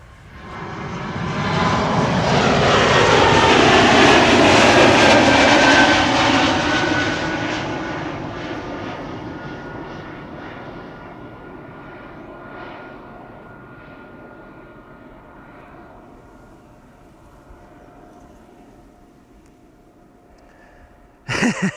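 An airliner departs Amsterdam Schiphol Airport, its engine roar swelling to a loud peak within the first few seconds and then slowly fading into a long, distant rumble.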